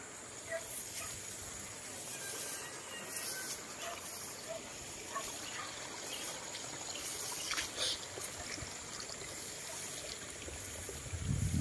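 Water runs steadily in a stream beside rice fields, a soft continuous hiss and trickle with faint background sounds and a low rumble rising at the end.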